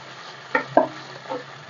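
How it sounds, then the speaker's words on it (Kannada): A spoon stirs cornflour slurry into gobi manchurian gravy in a pan, giving three soft, brief scraping strokes over a faint background, quiet and close. "ಇವಾಗ ಒಂದು ಸ್ಪೂನಷ್ಟು ಕಾರ್ನ್ಫ್ಲೋರ್ ಕಲಸಿಕೊಂಡಿದ್ದೀನಿ ಹಾಕ್ತಾ ಇದ್ದೀನಿ ಗ್ರೇವಿ ಥರ ಬರೋದಕ್ಕೆ"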